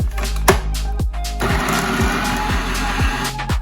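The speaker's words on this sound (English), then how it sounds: "And now blend until combined and smooth." A kitchen blender churns mango and lime juice into sorbet, a loud motor whir with a regular thumping pulse about twice a second as the fruit mixture is blended.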